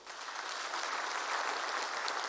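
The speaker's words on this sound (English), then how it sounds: "We need to give this PEC a nice round of applause." A conference audience at a provincial political party gathering claps in a steady, even wash of applause, fairly distant and sustained throughout.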